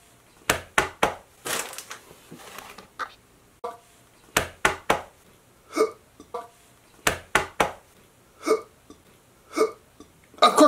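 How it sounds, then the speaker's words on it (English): Repeated hiccups come in clusters of sharp, close gulping jerks, two to four at a time, spaced by brief quiet gaps across the whole stretch, with faint breathy sounds between them. "I got the hiccups"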